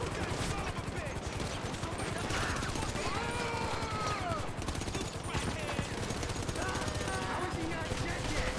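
Bursts of automatic gunfire and scattered shots fill a firefight in Grand Theft Auto 5, a dense, continuous clatter under excited shouting voices.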